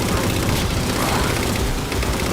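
Continuous gunfire from a Halo 4 campaign battle, dense and loud throughout, a wall of overlapping shots and booms with no clear gaps between them.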